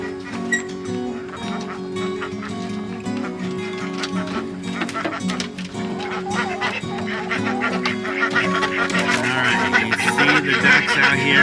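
Pet ducks call outdoors with repeated honking quacks, moderately close, against a steady background hum that grows busier and louder toward the end.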